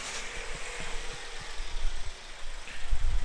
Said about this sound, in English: Now what I'm going to do is I'm going to start the engine up so we can look at a live running compression waveform.